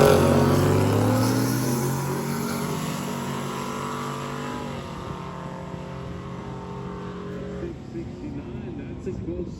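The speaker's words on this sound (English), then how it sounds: "We got the Futura against a Dart." A Ford Futura and a Dodge Dart launch down a drag strip, engines roaring loud and rising in pitch through the gears, then fading into the distance as the cars pull away, with crowd and announcer voices underneath.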